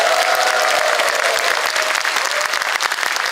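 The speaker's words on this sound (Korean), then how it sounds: "박수 한번 부탁드립니다." An audience applauds at a policy forum in the National Assembly Members' Office Building conference hall in Seoul. Dense, loud clapping from many hands fills the whole moment without letting up.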